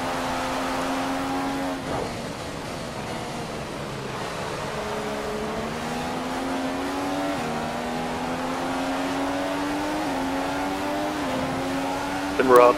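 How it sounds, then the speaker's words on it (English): A race car engine in a racing video game drones steadily at high revs, its pitch stepping up repeatedly through gear changes, loud and constant for several seconds with a brief louder burst at the end. "my car sounds like it's gonna die"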